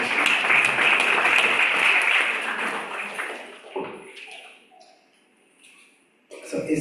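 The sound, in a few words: audience applause at a class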